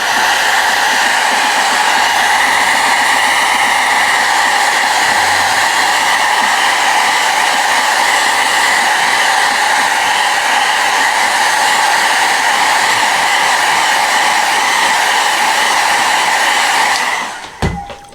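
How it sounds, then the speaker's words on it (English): A hair dryer runs continuously at close range for a long stretch, a loud, steady whooshing drone with a bright whine, used for quick drying of a Space Marine miniature paint job, then clicks off at the end. "Quick hair dryer."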